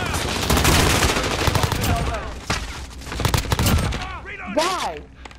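Gunfire in the Call of Duty: Modern Warfare video game, dense automatic bursts and rapid shots, loud and close, followed by whining, sweeping tones as the shooting tapers off.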